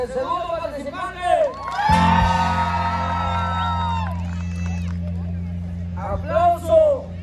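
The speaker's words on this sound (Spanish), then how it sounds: "Aplauso para el segundo participante." Spectators at a village jaripeo-baile bullring let out a sustained cheer and shouts for a young contestant, a loud wash over a steady low hum, with an announcer speaking over the PA before and after.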